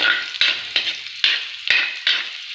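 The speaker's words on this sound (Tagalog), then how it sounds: "Ayan, mainit na. Ayan, gisahin natin yan." Garlic sautéing in hot oil in a pan, a bright, close sizzle broken into bursts by about five stirring strokes of a utensil.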